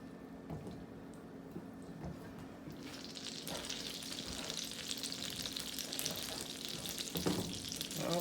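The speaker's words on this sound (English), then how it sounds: "Now that we add our butter and our olive oil into the pan, we are going to cook the egg" Butter and olive oil sizzle and crackle steadily in a hot skillet, the frying getting louder and brighter partway through, with occasional stirring scrapes and no talk.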